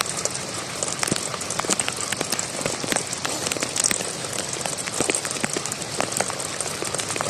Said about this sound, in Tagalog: Sa super lakas ng ulan.